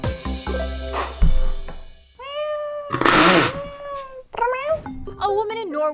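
A woman imitates a cat with a series of drawn-out, whiny meows, loud and close, several separate calls with short pauses between them.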